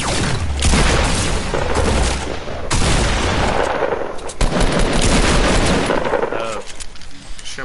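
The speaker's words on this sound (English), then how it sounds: "My bad, I missed all my shots on that kid." Rapid bursts of automatic gunfire and booming shots inside a building in a shooter video game, loud and dense with repeated volleys, and brief player voices underneath.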